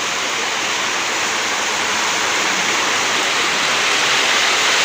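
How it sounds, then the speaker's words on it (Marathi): Steady, loud rush of flowing river water, a continuous broadband roar with no breaks and no voices. "नदी कशी वाहते नदी सुंदर नदीला पाणी खूप आहे"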